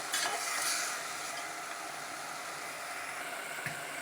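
Continuous sizzling in a hot pan over a high gas flame as a spoon stirs ginger garlic paste through it, steady and close, no voices.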